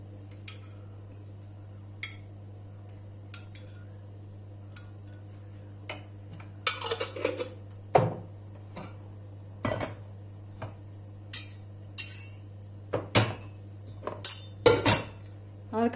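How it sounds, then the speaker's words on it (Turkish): A metal spoon taps and clinks against a bowl while red pepper tomato sauce is spooned over fried vegetables for a baked meatball and vegetable dish; sparse, light knocks recur every second or two over a steady low kitchen hum. "Bu sosu üzerine dökeceğim."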